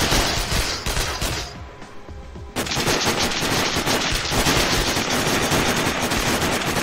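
Rapid, sustained gunfire from the Sniper: Ghost Warrior video game, loud dense bursts of shots that dip briefly then continue as a heavy fusillade, with no talk over it.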